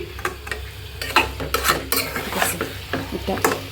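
Stir-frying in a pan in a home kitchen, with loud, close, rapid scraping and clattering strokes of a spoon over a continuous sizzle.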